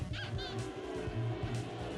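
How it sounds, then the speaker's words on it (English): A squeaky rubber-duck sound effect from the PS2 wrestling game Legends of Wrestling plays over game audio, with a few short high squeaks and honks above a rumbling crowd and music bed. "Nothing tells you I got hit in the nuts like a squeaky duck sound effect."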